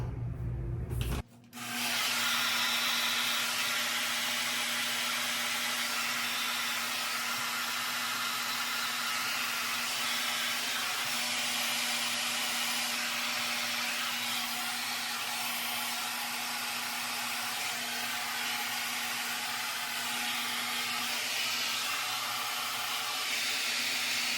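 After a brief pause, a hair dryer runs continuously at close range, a steady loud whooshing roar as it dries wet spots in curly hair, with no one talking.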